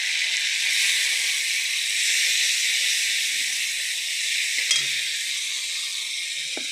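Onion and tomato fry in a pan with a loud, steady close sizzle and hiss, and a brief clatter from stirring breaks in near the end.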